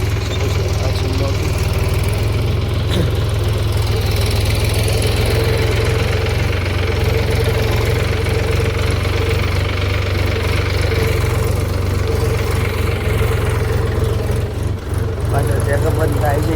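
A machine sowing mung bean seeds runs its engine at a steady, knocking idle, loud and constant throughout, while someone talks over it.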